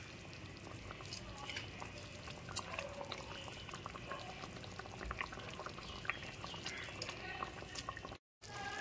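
Fried bottle gourd dumplings go into a simmering curry gravy, giving a continuous bubbling, liquid bed with scattered small pops and clinks from the pot, fairly quiet throughout.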